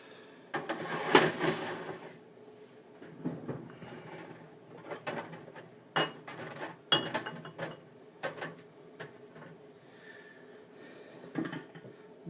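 Glass jars clinking while being taken out during homemade maple syrup making, a series of irregular sharp clinks and knocks with short pauses between, close and fairly faint.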